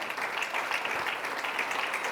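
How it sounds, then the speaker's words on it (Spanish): A church congregation applauds during a Spanish-language sermon, a dense, steady wash of many hands clapping together, fairly quiet and continuous with no talk over it. "Démosle un aplauso al Señor porque Él es bueno."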